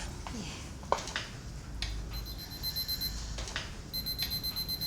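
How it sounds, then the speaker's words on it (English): An alarm clock rings in short repeating electronic bursts after a few quiet clunks and rustles, fairly close and moderately loud. "What's that noise? Our alarm clock."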